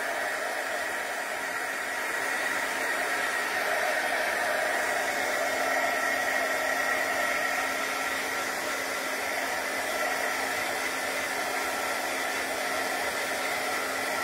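A hair dryer runs steadily to dry a watercolor background made with a brayer, giving a loud, continuous whooshing blow with a faint motor whine for the whole stretch, with no talking.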